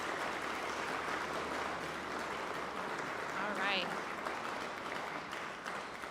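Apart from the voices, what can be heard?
audience applause at senior celebration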